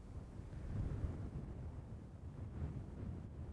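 Wind gusting across an open golf course in Missouri, a steady low rumbling buffet on the microphone that swells and eases throughout, with no talking.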